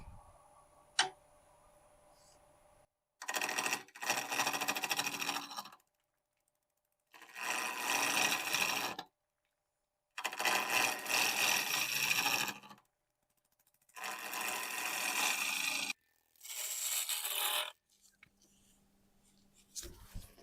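A wood lathe spinning at about 800 RPM while a 5/8 bowl gouge cuts a ball shape, heard as five loud bursts of scraping, hissing cutting, each a couple of seconds long, separated by quiet pauses.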